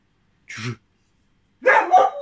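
A dog gives a short bark, then after a pause a louder, longer bark with a whiny edge, close by with no talking.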